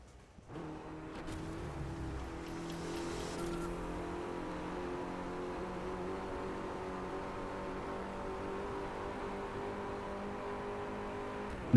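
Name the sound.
Mercedes A45 car engine driving in Driveclub video game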